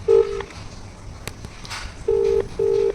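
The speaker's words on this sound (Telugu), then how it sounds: "ఇప్పుడైతే ఫోన్ చేస్తున్నాము." Phone call ringing tone heard close and loud, three steady tonal pulses, a short one at the start and two longer ones near the end, separated by quiet room noise and a few faint clicks.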